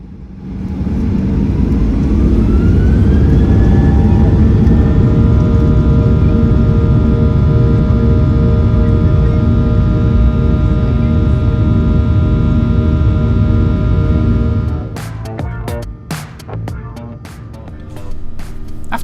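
Steady, loud roar of a Fly Dubai airliner cabin during takeoff: broadband engine rumble with a rising whine that levels off, then near the end the roar drops and clunks and rattles break in.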